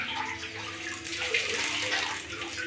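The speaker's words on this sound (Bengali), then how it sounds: "তার জন্য আমি তেলের ভিতরে প্রথমে 1 চামচ পাঁচফোড়ন দিয়ে দিচ্ছি।" Panch phoron, a Bengali five-spice seed mix, frying in a spoonful of hot oil for a vegetable and fish curry, giving a steady, continuous sizzling hiss close by.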